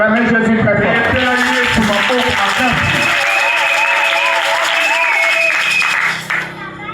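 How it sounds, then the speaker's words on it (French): Church congregation at a Friday evening Full Gospel worship service applauding and cheering loudly and continuously, a dense crowd roar with clapping throughout that eases slightly at the end. "On va acclamer Jésus très fort."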